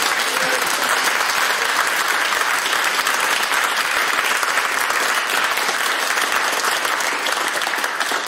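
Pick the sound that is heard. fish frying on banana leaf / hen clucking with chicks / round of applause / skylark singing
round of applause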